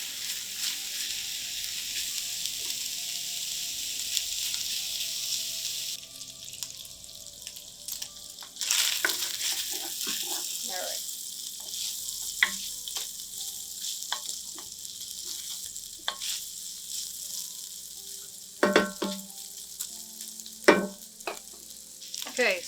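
A pound of maple bacon sizzles in a pan, a bright, close frying hiss at first, then quieter crackling mixed with scraping, clatter and scattered sharp knocks as it cooks.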